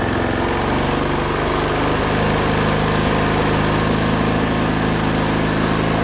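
Toro Timemaster lawn mower engine running steadily at raised throttle, a loud continuous droning hum close by with no pauses.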